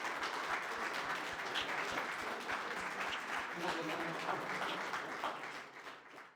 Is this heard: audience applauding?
yes